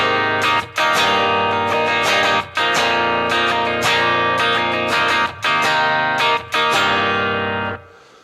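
Electric guitar chords ring out through the Headrush MX5 factory preset How Does It Feel, a loud, distorted, effects-laden tone with rhythmic strummed phrases and short gaps, fading out at the end.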